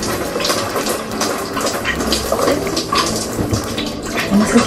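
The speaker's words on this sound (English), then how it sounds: "So now we're showering." Shower water runs steadily inside a van, a continuous close hiss and patter of spray with small splashes, alone without talk.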